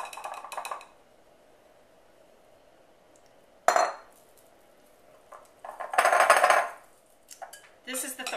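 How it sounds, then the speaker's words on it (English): Flour and sugar are sifted into a bowl for angel food cake, the metal sifter giving short bursts of rattling, scraping clatter separated by near-silent pauses. "I'm just going to simply sift back in the other bowl"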